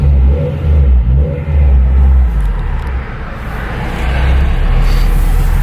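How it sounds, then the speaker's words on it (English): A supercharged Honda Civic EK Type R with a short shifter on the move, its engine droning low and loud with steady rumble and brief revving swells, heard close from inside the car without talk. "So we're gonna take this thing for a nice little drive and see how she does."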